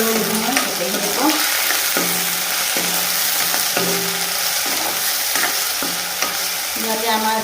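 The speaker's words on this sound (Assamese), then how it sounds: "এতিয়া ধুনীয়াকৈ লৰাই ভাজি লওঁ মই গোটেইখিনিকো।" Onion, chili, bay leaf, ginger and garlic sizzle in a hot pan while a spatula stirs and scrapes in a steady rhythm, loud and close, with repeated clanks against the pan and no talk.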